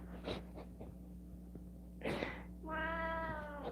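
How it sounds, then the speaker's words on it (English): A pet cat, indoors at home, gives a few soft snorts and sniffs and then one clear, drawn-out meow near the end, close and fairly quiet over a low steady hum. "let's not harass the kitty more"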